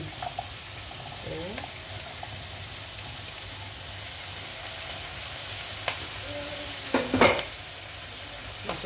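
Cabbage being stir-fried with green beans and carrot in a pan, a steady soft sizzle with scraping and stirring clatter, one louder clatter burst near the end, faint voices under it.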